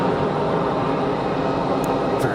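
Loud business jets depart Geneva Airport, a dense steady engine roar heard from nearby that fills the whole stretch without letting up.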